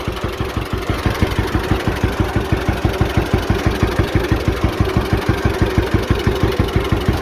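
A John Deere A tractor engine running loud and close, with the steady, heavy two-cylinder putt-putt rhythm of evenly spaced low thumps throughout and no talk.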